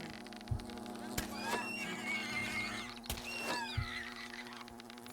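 Wasps in the video game Fable: Heroic give off a faint, steady buzzing hum, broken by a few sharp clicks and thumps from the game.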